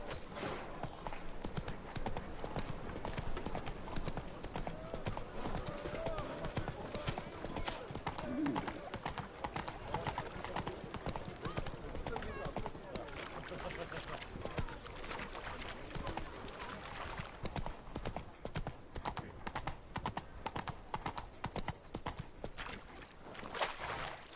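A horse galloping in The Witcher 3 video game, rapid rhythmic hoofbeats drumming steadily and close throughout, with faint background game sounds.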